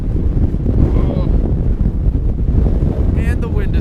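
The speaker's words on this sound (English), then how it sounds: "The wind is much stronger here." Strong, steady wind buffets the microphone outdoors in downtown Amsterdam beside the water, a continuous low roar with gusts throughout and no speech.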